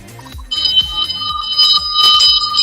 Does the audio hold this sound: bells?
yes